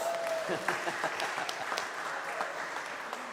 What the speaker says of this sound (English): I'm sorry to give you that round of applause